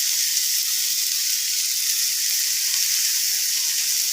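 Garlic, onion and asafoetida frying in oil in a pan while making adai dosa, giving a steady, bright, close sizzle that holds evenly throughout with no talk.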